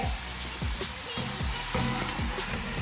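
Potato French fries frying in hot coconut oil in an iron cheena chatti give a steady, close sizzle, with rhythmic low scraping knocks from stirring about every half second.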